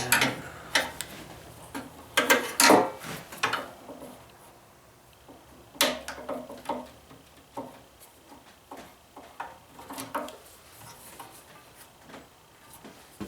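A clamp being tightened onto a leaf vacuum hose on a Honda-engined leaf vacuum system, giving a close series of irregular clicks and ticks, some sharp and loud, then quicker, softer ticking toward the end, with no talk.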